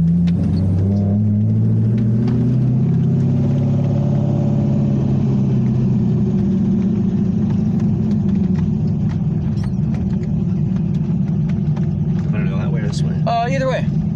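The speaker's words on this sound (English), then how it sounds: "Through the gears a little bit." A modified Corvette V8 with upgraded heads, cam and intake rumbles loudly as it accelerates, the deep engine note climbing in pitch and then dropping at a shift, with a voice talking over it.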